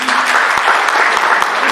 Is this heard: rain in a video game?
no